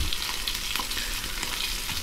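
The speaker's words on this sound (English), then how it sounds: "Listen to that sizzle" Rainbow trout sizzles loudly and steadily as it fries in a pan, a dense crackling hiss with small pops that carries on without pause.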